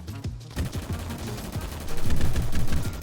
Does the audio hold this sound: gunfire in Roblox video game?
yes